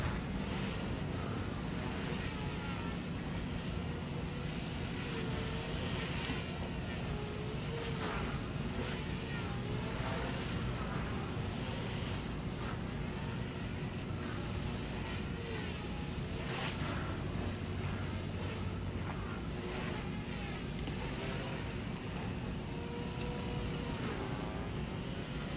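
A Walkera V120D02S flybarless mini 3D RC helicopter flips repeatedly while its motor gives a continuous dense whine and whoosh that rises and falls, steady and fairly close throughout.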